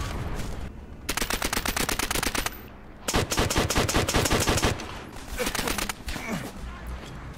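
Bursts of MP40 submachine gun fire in Call of Duty, heard as three long rapid-fire strings of crisp shots with short gaps between them, fairly quiet overall and with no talk.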